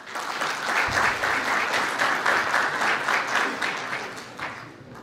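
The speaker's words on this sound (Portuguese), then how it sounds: "Vamos recebê-lo com uma salva de palmas." Audience at a lecture applauding to welcome a speaker, a dense sustained burst of many hands clapping that holds steady and then tapers off.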